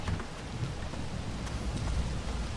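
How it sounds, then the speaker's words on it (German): Rain falls steadily in the horror video game Pineview Drive, a dense, continuous hiss with low rumbling underneath, alone and without talking. "Es regnet."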